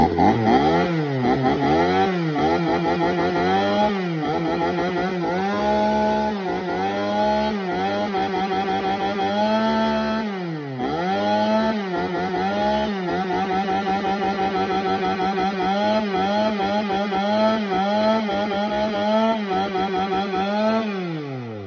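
A used, all-original Shindaiwa 346 chainsaw engine running loud and close, two-stroke buzz rising and falling as the throttle is blipped and revved repeatedly over about twenty seconds, with no talking.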